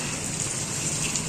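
Rain falls outdoors in a brief, steady hiss of drops, close and even throughout.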